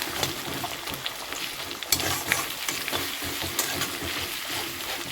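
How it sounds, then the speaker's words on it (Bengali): Chopped onions frying with a pinch of salt for chicken biryani, giving a steady close sizzle with stirring and scraping sounds, and no talking. "পেঁয়াজগুলোকে লাল লাল করে ভেজে নেব"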